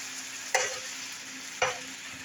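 Egg roll in a bowl sizzling in a frying pan: a steady, bright hiss of frying, broken by two sharp scraping stirs of a spoon about a second apart, close and alone.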